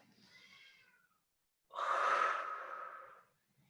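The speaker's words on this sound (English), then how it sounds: "Breathe." Two deep breaths during a misogi training exercise, a softer breath in then a louder, longer breath out, close and alone without talk.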